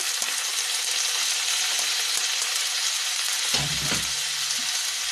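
Rice roasting in ghee in a pan over a low gas flame, for sweet saffron rice: a loud, steady sizzle throughout, with a brief scraping stir near the end.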